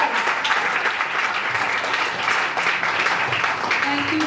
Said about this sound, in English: A big round of applause for all of us.